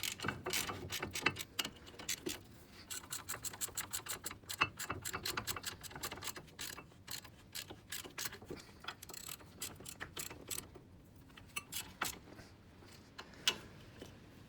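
A ratchet clicks in rapid bursts while tightening a brake caliper frame on a Ford Focus Mk2, its dense metallic ticking close by, pausing briefly between strokes.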